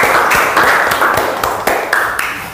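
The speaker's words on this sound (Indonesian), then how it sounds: "Tepuk tangan untuk kelompok" A small group in a classroom-style session claps for a presenting group, with sharp, close, irregular claps from a few people sounding over a steady background hiss.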